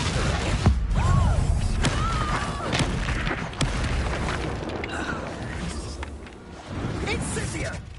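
Confringo explosive spell blast in Hogwarts Legacy, a booming burst over a busy mix of spell effects, with a voice shouting spell names throughout.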